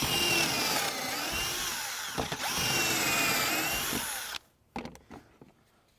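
A power drill whines steadily into wood drilling pocket holes for about four seconds, pitch dipping under load, then stops, followed by a few light clicks and knocks.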